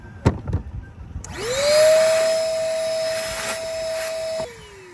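A vacuum cleaner spins up with a rising whine and runs loud and steady beside a Hallberg Rassy 352 sailboat under refit, then cuts off and winds down, preceded by a few clunks and knocks.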